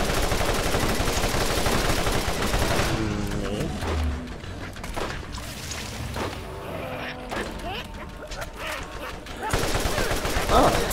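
Gunfire in the co-op shooter Borderlands, dense bursts of rapid shots and mechanical clatter at the start and end with a sparser middle, while players talk over the action.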